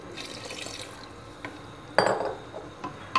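Water and dal lentils go into a cooking pot, heard as soft splashes and pouring with a sharper splash midway, fairly quiet and close.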